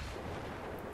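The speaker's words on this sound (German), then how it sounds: "Oh Gott, der Panzer schießt ja." A tank fires in Battlefield 3 on the Karkand map, a dense, continuous roaring blast that fills the whole second at fairly low level, with no voice over it.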